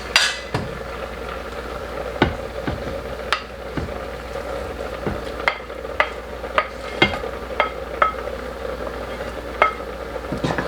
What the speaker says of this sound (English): Stirring everything up.